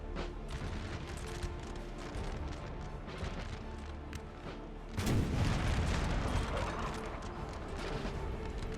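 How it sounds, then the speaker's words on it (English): Artillery fire in Napoleon: Total War booms through a battle, with a scattered run of distant reports followed by a heavier, louder barrage of rumbling cannon blasts midway. "Artillery is doing a number on the French forces."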